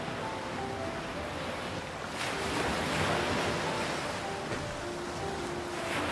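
Sea waves washing in a steady, loud roar of surf, with a swelling rush partway through, heard alone with no voices.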